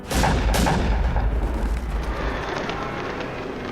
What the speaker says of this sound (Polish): Padają strzały.